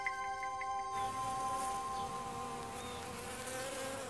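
Feral honeybees buzz in a continuous drone, several insects humming at once with steady tones, fairly faint and alone, on Kangaroo Island.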